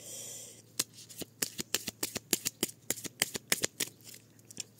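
A tarot deck being cut and shuffled, with a quick series of about twenty crisp card snaps and riffles close by, steady and regular, with no talking over them.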